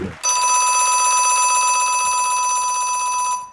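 A shrill theatre bell, the third bell starting a stage play at a festival ground, rings without a break for over three seconds, loud and close, then stops abruptly. No voices are heard.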